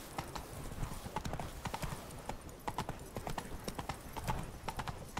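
Horse hooves clip-clop in The Witcher 3: Blood and Wine, a steady, close, rhythmic trot of hoofbeats that repeats through the whole stretch over soft ambient game sound.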